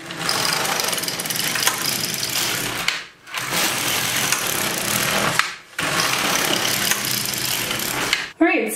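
An LK150 knitting machine carriage is pushed across the bed in three long passes while knitting cardigan rows, a close rasping, clattering sweep with brief quiet breaks between rows.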